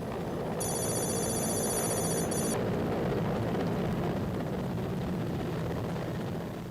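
A helicopter in flight gives a steady, loud rotor and engine roar. Early on, a brief ringing tone sounds over it.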